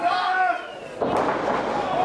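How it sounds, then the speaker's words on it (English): At a Focus Pro Wrestling event, a wrestler is slammed face first onto the ring mat with a sudden heavy impact that cuts through crowd noise and excited commentary. "Slams Monty down face first."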